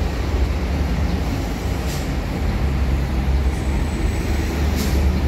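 A light rail train rolls past near an LRT station in Indonesia with a steady broad rumble and hiss, moderately loud and continuous, with a faint high squeal from the rails.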